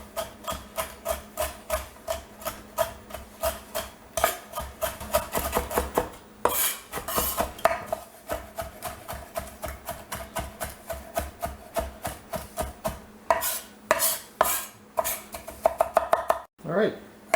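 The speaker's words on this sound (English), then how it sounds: "I've got about 1/3 of a cup of pistachios, and all I'm going to do is put a nice chop on these." A knife chops pistachios on a board in a fast, steady run of close, crisp strokes that keeps going for the whole stretch, with only brief pauses.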